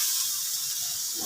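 Grated coconut frying in oil on full heat produces a soft, steady hiss close by, with no voices.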